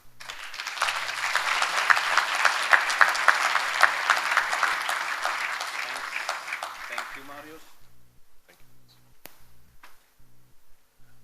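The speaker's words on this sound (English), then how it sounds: "I think once more the applause for the gentlemen" Audience applause for panel speakers at a conference debate session, a steady round of clapping building over several seconds and fading out around the eight-second mark, with faint room noise after.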